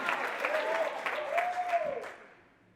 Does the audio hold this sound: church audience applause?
yes